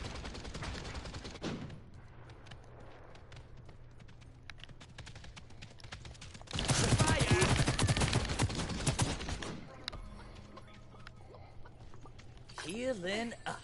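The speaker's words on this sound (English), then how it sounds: "I can hear him shooting." Rapid bursts of enemy gunfire in the Realm Royale video game crackle in clusters, loudest in a dense middle stretch, with game effects and a rising whoosh near the end.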